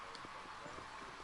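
Horse hooves clip-clop in the Western video game Red Dead Redemption, a quick regular patter of soft thuds under a steady bed of game ambience and music.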